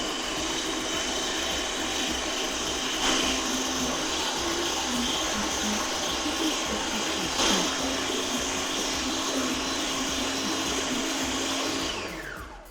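A food processor whizzing Turkish restaurant-style chilli sauce (ezme) ingredients, a loud steady motor whine running continuously for about twelve seconds before cutting off.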